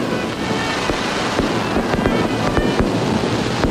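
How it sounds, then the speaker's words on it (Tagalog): Fireworks crackle and pop in rapid, irregular bursts at a Chinese New Year display in Binondo, Manila's Chinatown, loud and dense, over a steady roar of crowd and outdoor noise. "inabangan kagabi ang fireworks display dito sa Chinatown"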